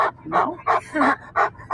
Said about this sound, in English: The dog came to say hello to the stream.